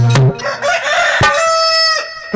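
A loud, close rooster crow with a long drawn-out tonal call.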